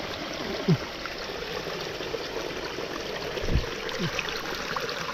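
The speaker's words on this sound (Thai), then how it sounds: "อยู่ข้างน้ำไหลพอดีเลย" A stream of water flowing steadily beside a forest trail, a soft even rushing with a few faint chirps and small knocks on top, fairly quiet and unbroken, with nobody speaking.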